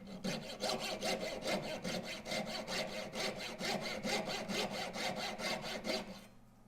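A jeweler's saw fitted with a thin blade cuts through wax or wood in a jewelry workshop, a steady run of quick rhythmic rasping strokes, close and loud, stopping near the end.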